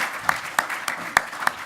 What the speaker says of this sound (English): So please give our round of candidates a big round of applause.